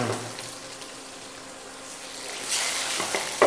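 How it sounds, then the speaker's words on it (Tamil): Mustard seeds, cumin, curry leaves and a couple of dried red chillies sauté in hot oil for a millet upma, a soft steady sizzle that swells louder and brighter near the end with faint stirring scrapes. "ஸோ நல்லா வதக்கிக்கிறேன்."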